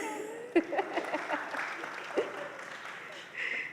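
An audience at a community performance and lecture series claps at a moderate distance, a mix of scattered and sustained applause, while a person keeps talking over it.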